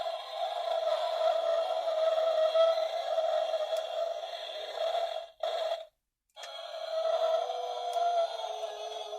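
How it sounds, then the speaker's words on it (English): A bootleg Mattel Jurassic World Giganotosaurus toy figure plays an electronic howling effect: a long, buzzy, steady tone that cuts out briefly and then resumes for several more seconds. It is close and clear, with no talking. "Randomly, our Giganotosaurus is howling"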